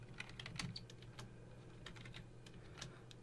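Quiet, steady typing on a computer keyboard as text is entered in a code editor, with light, close clicks running evenly throughout and no voices.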